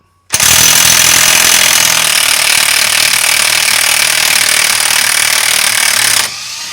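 A DeWalt impact wrench hammers loose a tight 32mm front hub nut on a 2015 Ford Transit MK8, one loud, continuous burst of rattling impacts lasting about six seconds before cutting off.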